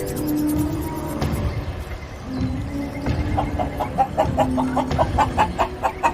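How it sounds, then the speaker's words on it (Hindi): Repeated short clucking calls from a wild chicken, growing more rhythmic toward the end, over a busy outdoor background. "जब कायरा जंगली मुर्गी को पत्थर से मारने की कोशिश करता है"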